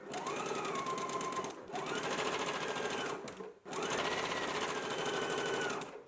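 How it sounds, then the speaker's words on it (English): A sewing machine stitches fabric seams on a McCall's garment in three steady, fast-running bursts separated by brief pauses, close and clear with no voices. "Let's go ahead and do our sewing now."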